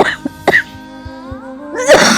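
A few short, harsh coughs near the start, then a sustained tonal sound and a rough burst near the end, loud and close.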